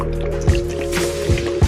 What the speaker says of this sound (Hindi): इस कंक्रीट को भी हम ब्रिज पर डालेंगे।